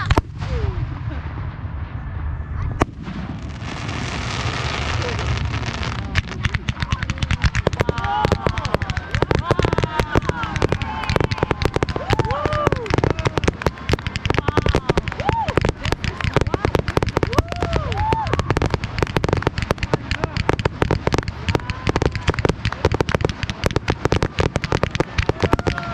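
Fireworks display at Pumpkin Ridge Golf Club in 2021, with dense, continuous booms, crackles and rapid popping bursts rolling on throughout, loud and nearby, with people's voices faintly mixed in.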